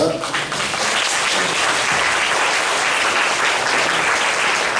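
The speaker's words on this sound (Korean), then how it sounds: "우리 환영의 박수를 부탁드리겠습니다" A crowd claps in steady, sustained applause at a church worship service, dense and even throughout.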